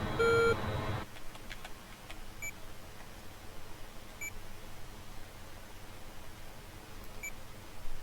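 Cockpit warning beeps in an F-14A Tomcat in the DCS flight simulator, a few short, high, thin tones recurring at intervals over low engine rumble after a brief louder opening burst.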